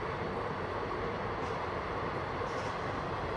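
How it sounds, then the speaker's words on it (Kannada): A local passenger train runs at full speed, with a steady loud rumble and rattle of the carriages heard from inside and continuing without a break. "ಟ್ರೈನ್ ಫುಲ್ ಸ್ಪೀಡ್ ಐತಿ"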